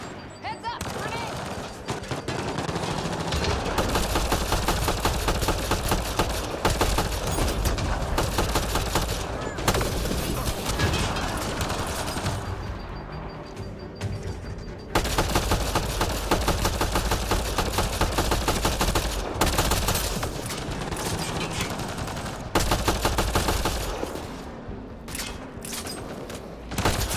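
Sustained machine gun fire in a Mass Effect Andromeda firefight, dense rapid bursts rattling almost nonstop, loud and close, with short pauses between long volleys and game sound layered underneath.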